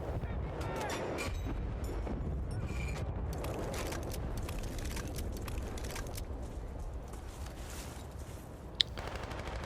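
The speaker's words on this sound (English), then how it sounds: "Here we go, mortaring." Dense, continuous gunfire and heavy weapon reports, mortar fire in an online combat video game, roll on throughout at a steady loud level, with one sharp crack near the end.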